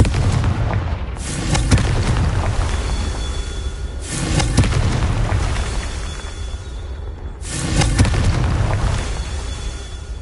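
Three booming spell explosions from the Confringo fire spell in Hogwarts Legacy, each a loud broadband blast with a long rumbling tail, spaced about three seconds apart.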